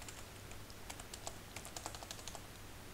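Steady typing on a computer keyboard while writing MikroC code for a PIC16F877A microcontroller project, quick irregular soft key clicks over a low background hum.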